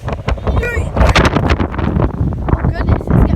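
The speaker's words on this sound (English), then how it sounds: "Oh goodness, it's getting windy again." Strong tornado wind buffets the microphone in loud, gusting rumbles and roars, while a person talks over it.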